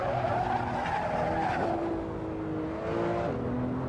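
Porsche 911 Turbo S in the Assetto Corsa racing game braking hard toward a corner, tires squealing and skidding in long sustained screeches over a loud, steady engine drone.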